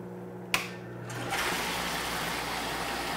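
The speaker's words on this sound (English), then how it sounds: "just want to kind of show you what it's like when I flip the pump on and it starts mixing the water" An inline water pump rated around 1575 gallons per hour is switched on to mix salt water in a container: a sharp click, then a steady rushing, gushing flow of water over a low pump hum.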